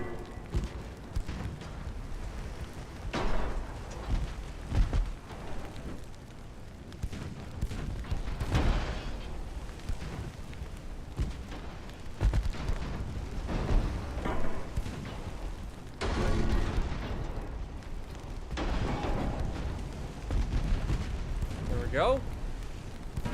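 Twin 4-inch naval deck guns in a war strategy game fire repeated deep booms with rumbling tails, mixed into continuous game noise. Someone talks over the gunfire.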